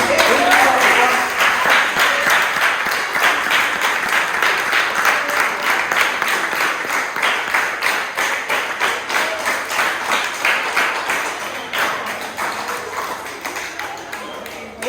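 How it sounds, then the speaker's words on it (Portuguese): A school audience applauds during a talk about Manuel Piar, steady rhythmic clapping running for the full stretch at moderate loudness, with faint tonal ringing and a little crowd murmur underneath. "O aplauso da nossa primeira galera."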